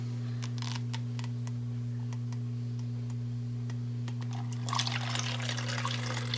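Homemade beautyberry insect repellent liquid trickles into a small spray bottle, faint pouring and dribbling heard close over a steady low hum, growing brighter and splashier near the end.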